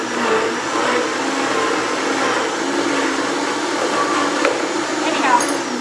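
A blender whirs steadily and loudly while blending mint chimichurri sauce, a constant motor drone with no pauses.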